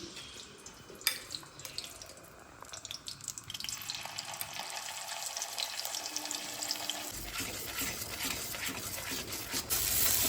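A ground paste of shrimp, nigella, garlic and chili fries in hot oil, a steady wet sizzle that swells and stays loud through the second half, with a few clinks and scrapes at the start.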